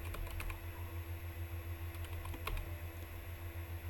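Typing on a computer keyboard in steady, close clattering bursts of keystrokes over a low background hum, with no voices.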